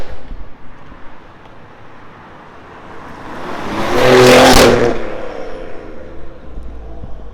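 A BMW F30 318 three-cylinder engine with a performance exhaust revs hard, swelling from a steady idle to a loud, raspy peak before falling back to a rumble.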